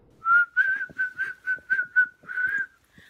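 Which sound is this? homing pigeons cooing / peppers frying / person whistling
person whistling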